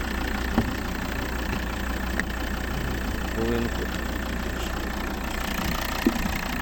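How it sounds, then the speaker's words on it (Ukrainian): A 2013 Volvo V60 R-Design's 2.4-litre five-cylinder D5 diesel engine idles steadily with a low, even rumble, with a faint voice and a few small clicks over it. "знаменитий п'ятициліндровий вольвовський двигун"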